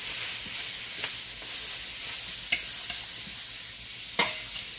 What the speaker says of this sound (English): We'll keep stirring it up.